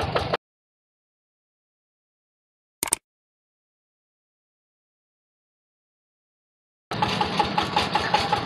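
A Yanmar tractor engine idling with a steady mid-pitched hum beside a main road near rice paddy dikes, heard in short bursts broken by long silences, loudest in the final stretch.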